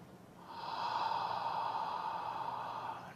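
A long, steady exhale through the nose or mouth during a breathing exercise, a soft airy rush that swells after a brief start and holds evenly for about three seconds, close and alone.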